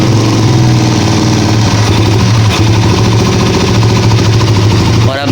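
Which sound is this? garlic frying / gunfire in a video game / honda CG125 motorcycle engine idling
honda CG125 motorcycle engine idling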